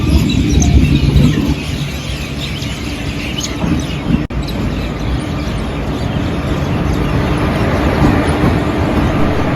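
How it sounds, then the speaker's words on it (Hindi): The Kalka Express, hauled by a WAP-4 locomotive, arrives at a station with a loud, steady rumble of rolling wagons throughout, and faint bird chirps mixed in. "हमारी रेलगाड़ी जिसका काफ़ी देर से इंतज़ार किया जा रहा था, भरी बुखार में वो आ जाती है"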